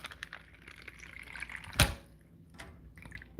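Water poured into a plastic bag, a short splashing gush near the middle among faint drips and handling noise, fairly quiet and close.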